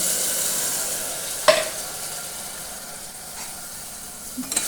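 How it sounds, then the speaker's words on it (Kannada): Tempering being added to a ridge gourd curry: a sharp burst of sizzling and spatter after a soft background hiss, then fading, with a brief clatter near the end. "ಇದನ್ನ ಇದಕ್ಕೆ ಹಾಕ್ಬಿಡೋಣ್ರಿ ಒಗ್ಗರಣೆ"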